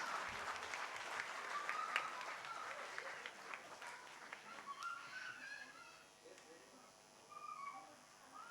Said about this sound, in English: one round of applause for me also